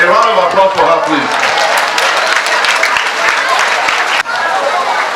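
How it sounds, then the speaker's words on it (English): Audience applause at a school uniform distribution event in Idanre, with dense, steady clapping from a crowd, loud and close, holding for several seconds before a brief dip. "A round of applause for her, please."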